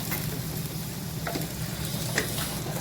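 Tomatoes fry in a pan with a steady, close sizzle and crackle, while occasional scrapes and taps of stirring come through, with no talking.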